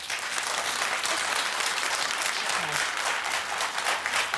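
A studio audience at a daytime talk show claps together, a dense, steady burst of applause that fills the whole moment without any voices on top.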